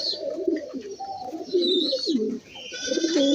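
Pigeons cooing while feeding, several soft throaty coos repeating close by in a loose rhythm, mixed with faint chirps and rustling.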